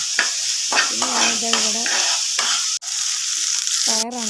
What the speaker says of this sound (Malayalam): വെളിച്ചെണ്ണ ഒഴിച്ചതിൽ കടുകിട്ട് പിന്നെ അതാ ക്യാരറ്റ് അതിലേക്ക് ഇട്ടെടുത്ത്